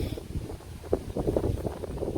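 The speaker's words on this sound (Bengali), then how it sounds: "এরকম বাতাস" Wind blustering against the microphone in uneven low rumbling gusts, steady throughout with no voices.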